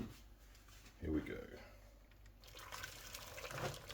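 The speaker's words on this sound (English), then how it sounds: "And in goes the boiling water." Boiling water is poured from a kettle onto potatoes in a pot on a home cooker, a short splashing gush followed by a soft trickle, faint, with a voice murmuring nearby.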